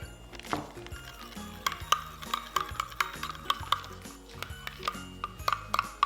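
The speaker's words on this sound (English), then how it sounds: "Mix them together nicely." A DIY hair mask made with WOW conditioner is mixed in a small container, giving quick repeated clinking taps and scraping strokes of a utensil against the sides, close and fairly light, with no talk.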